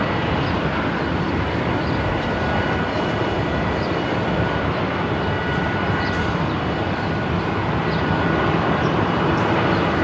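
Shauman Air aircraft departing Melbourne Airport, a broad continuous engine roar holding steady and loud throughout, with no voices.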